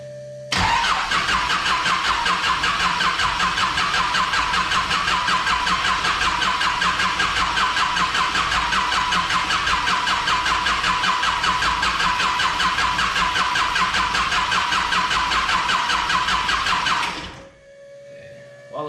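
A starter motor on a Honda del Sol swapped with a J35 engine cranks without a break for about seventeen seconds, a loud rhythmic whirring churn that never fires, then cuts off.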